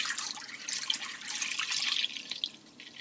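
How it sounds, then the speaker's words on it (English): Whole milk poured from a gallon jug into an old, stained crock pot, a steady liquid splash and trickle running for about three seconds before tapering off near the end, with no voices. "So you're just going to take your gallon of milk and pour it in right into your crock pot."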